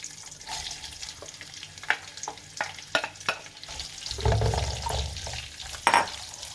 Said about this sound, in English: we'll just braise these onions